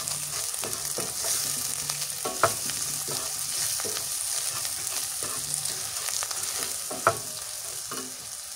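Dried fish frying in a pan with salt and turmeric, a steady close sizzle and crackle with occasional stirring scrapes and a couple of sharper pops, no voices.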